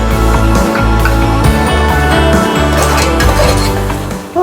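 A spoon stirs masala, vegetables and tamarind water together in a pot for Tirunelveli kootanchoru, making loud, repeated metal clinks and scrapes in an uneven rhythm, close-up and continuous.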